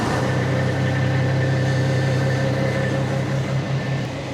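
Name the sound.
engine idling, idle being turned up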